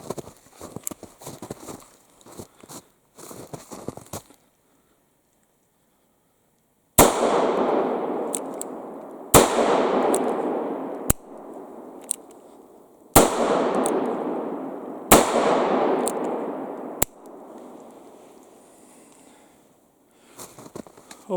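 An antique Colt Thuer conversion revolver, about 150 years old, fires about six sharp, loud shots spaced roughly two seconds apart, each cracking and then fading with a long echoing tail, after a stretch of quiet handling sounds.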